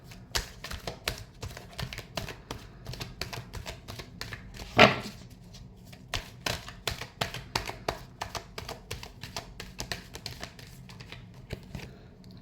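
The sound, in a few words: shuffling tarot cards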